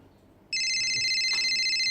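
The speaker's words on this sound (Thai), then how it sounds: "รับโทรศัพท์ที่หนึ่งฮะ" An electronic telephone ringtone cuts in abruptly and keeps sounding in a steady, bright, continuous trill, loud against a quiet room.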